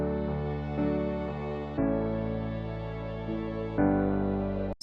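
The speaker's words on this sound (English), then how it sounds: "I have these 4 tracks: piano, bass, pads and strings," A music mix of piano, bass, pads and strings plays sustained chords with a warm, thick, dense low-mid body, changing harmony every couple of seconds, with no voices.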